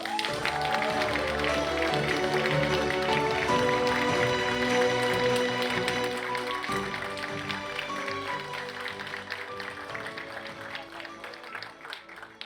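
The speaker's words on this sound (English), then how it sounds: "So please stand if you supervised a Conestoga student so we can give you a round of applause." A large audience at a college broadcasting awards ceremony applauds steadily, a dense wash of clapping that holds for several seconds and then slowly tapers off.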